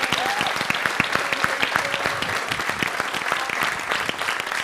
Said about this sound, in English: So let's hear a round of applause for him.